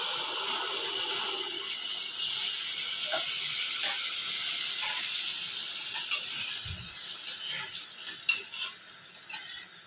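Ladlefuls of malpua batter fry in a pan of hot oil with a steady bright hiss and sizzle, plus a few soft clinks and taps from the utensil toward the end.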